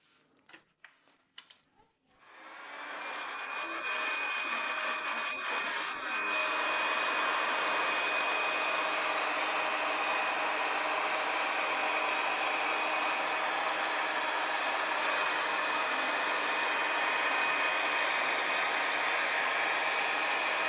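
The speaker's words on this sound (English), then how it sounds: "Take a hair dryer and start warming it up from the center to the edge." A hair dryer warming epoxy resin over an alcohol-ink rose painting: a few clicks and handling knocks, then the dryer switches on and holds a loud, steady whooshing hiss for nearly twenty seconds.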